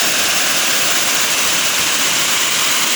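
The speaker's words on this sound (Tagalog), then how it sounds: "Dapingan Falls." Dapingan Falls pours with a steady, loud, broadband rush of falling water that holds unbroken and close throughout, with no voices.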